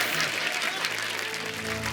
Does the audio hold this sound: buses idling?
no